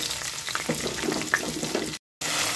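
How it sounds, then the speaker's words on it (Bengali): Green beans sizzle and crackle loudly in hot oil, a dense continuous frying hiss with brief stirring clatter, interrupted once by a short gap. "এবারে ওই তেলের মধ্যে আমি দিয়ে দেব বিনসগুলো"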